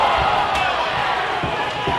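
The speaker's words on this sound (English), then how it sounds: "It looks like the crowd's getting very hot about this one" A high school boys basketball crowd roars in a gym, a dense, loud wall of cheering with faint thumps of bouncing balls or footsteps underneath.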